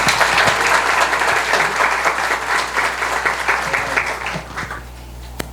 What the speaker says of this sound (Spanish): pero le vamos a dar un segundo aplauso